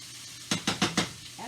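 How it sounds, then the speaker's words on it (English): A spoon knocks four quick times against a pot of sautéing cabbage-roll filling, sharp clinks close by over a faint background hum. "I have to stir that a little bit. Let me get my spoon."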